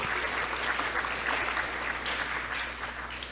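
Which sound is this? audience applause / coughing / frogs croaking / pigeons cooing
audience applause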